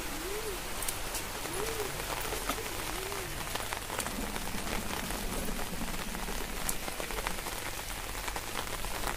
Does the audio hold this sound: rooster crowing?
no